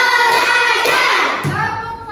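In a classroom, children chant together loudly and clap along. A few hand claps punctuate the unison voices.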